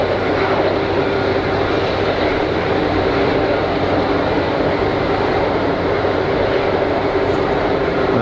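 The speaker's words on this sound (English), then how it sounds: "Noisy APU on that 330." The auxiliary power unit of an Airbus A330 runs at Geneva Airport, a loud, steady roar with a constant whine that never changes in level throughout. No voices are heard.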